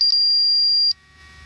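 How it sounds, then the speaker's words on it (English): A gas meter gives a single loud, continuous high-pitched electronic beep of nearly a second during calibration, then cuts off to quiet. "It'll start beeping at you and alerting you"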